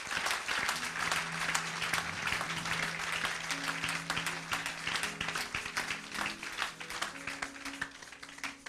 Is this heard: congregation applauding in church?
yes